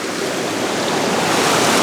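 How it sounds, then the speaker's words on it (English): Water cascades through a pine forest, a dense, loud, continuous rushing roar that stays close and steady throughout, with no voices. "And then the water just comes through the foreground."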